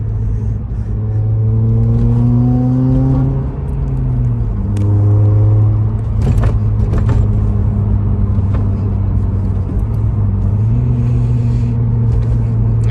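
A tuned Honda Civic Type R (FN2) engine drones loudly up close, its pitch climbing through gears with shifts between pulls, a deep throaty rumble under rising whine.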